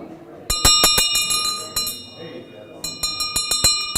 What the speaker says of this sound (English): Don't make me bring out the big bell.